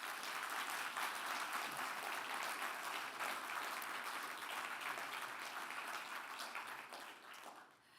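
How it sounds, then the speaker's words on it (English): An audience at the inaugural European Open Source Awards 2025 ceremony gives a long, full round of applause that holds steady before tapering off at the close. "We can get a big round of applause for everyone who was involved in the awards."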